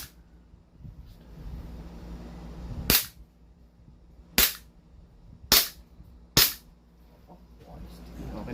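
Glock 17 pistol fired four times at irregular intervals, sharp loud reports amid low background rumble and faint voices.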